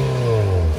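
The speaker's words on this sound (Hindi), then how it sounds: "एक बारी भैया इस गाड़ी की आवाज़ सुना दो लोगों को पहले की कैसी आ रही है अभी" Car with only a stock muffler tip fitted and no aftermarket exhaust, rumbling loudly and steadily up close at idle, with a low droning tone and no voices.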